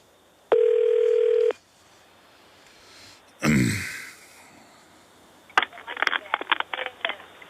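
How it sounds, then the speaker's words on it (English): A phone call to the main Department of Homeland Security number: a steady dial tone for about a second, then a short burst of noise, followed by a quick series of touch-tone dialing beeps. "Let's go ahead and call the Department of Homeland Security, the main number, 202-282-8000, and see if this works."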